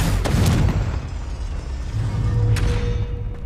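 A Confringo blasting spell goes off in the Hogwarts Legacy video game, a loud booming explosion with rumbling low blasts and a sharp crackling burst near the end.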